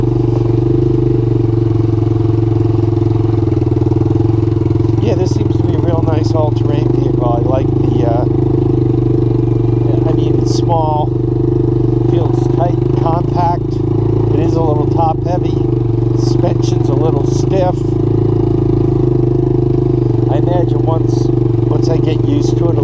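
A Suzuki LT80 ATV fitted with a 125cc Kymco manual-clutch motor rides along a wooded trail, its engine droning loud and steady while branches and brush scrape and clatter against it.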